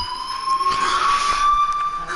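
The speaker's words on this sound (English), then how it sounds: "do you hear that fire alarm? That means you should be outside." A fire alarm rings in the Life is Strange video game, a loud steady electronic tone sounding continuously throughout, close and unbroken.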